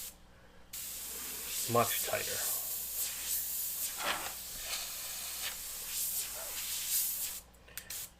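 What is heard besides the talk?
airbrush spraying paint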